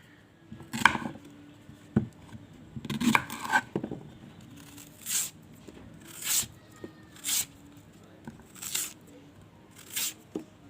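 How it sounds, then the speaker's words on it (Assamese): A knife chopping raw green banana on a board for a soybean curry, in a series of sharp, close cuts spaced across the clip, some in quick pairs, over quiet room tone. "এতিয়া কাচকল কাটি"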